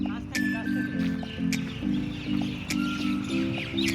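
A flock of common mynas calls on a Sunday in the UK, with repeated chattering chirps and whistles over a busy rhythmic background of other calls, close and fairly loud.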